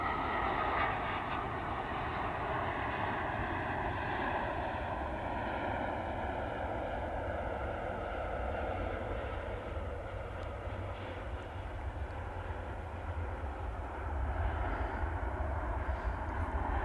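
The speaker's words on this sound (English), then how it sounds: "Qatar A350-1000. Just touching down from Doha." A Qatar Airways Airbus A350-1000 touches down after a flight from Doha, its engines a steady, broad roar that holds at moderate volume throughout, rumbling and slowly shifting as the jet rolls along the runway.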